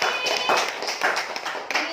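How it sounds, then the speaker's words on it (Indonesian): A short burst of scattered hand clapping from a classroom of students, a few uneven claps rather than a full round. "Tepuk tangan buat Alvin."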